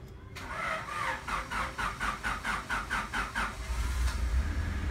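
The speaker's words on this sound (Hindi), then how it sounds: "स्टार्टिंग इसकी देख लेते हैं एक दफ़ा। स्टार्टिंग बहुत स्मूथ है इसकी।" A 1996 Honda Civic with a D16 VTEC engine cranks with a long run of rhythmic starter pulses before catching, then settles into a steady close idle.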